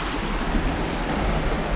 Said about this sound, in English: This is the spillway underneath the dam.